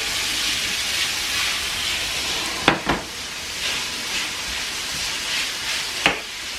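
Capsicum sautéing in a pan for kangaroo chilli con carne, a steady broad hiss of sizzling throughout with a few sharp knocks of a utensil against the pan, close and moderately loud.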